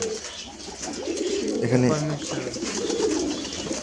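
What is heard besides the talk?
Pakistani pigeons cooing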